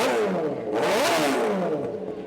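A Tech 3 Mistral 610 Moto2 racing motorcycle revs sharply at a classic track event. The engine pitch climbs, peaks and falls back in a quick burst, loud and close, with no talk.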